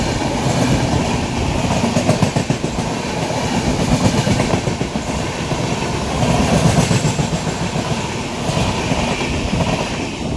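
The 17662 intercity train from Basara to Kachiguda rolls along at speed, heard from inside with a loud, continuous rumble and steady clickety-clack of wheels on the rails, no voices.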